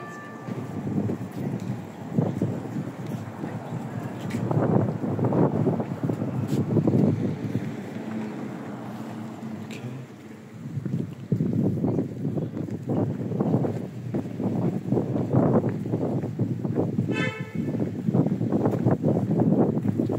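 Gusty wind buffets the microphone in low rumbling bursts, rising and falling throughout, with faint outdoor background noise, along the fortress wall of Rothenburg ob der Tauber.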